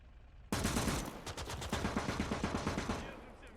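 A machine gun in the WWII game Call to Arms opens up abruptly and fires a long rapid burst of evenly spaced shots, fairly loud, before cutting off near the end.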